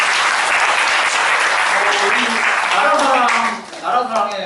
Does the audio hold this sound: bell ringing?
no